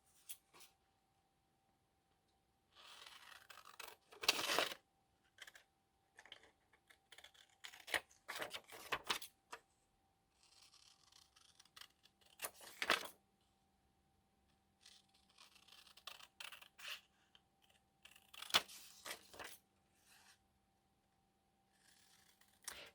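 Scissors snip through a paper journaling card in quiet, intermittent bursts of cutting, with a few sharper crisp snips spaced across the stretch and soft paper handling between them.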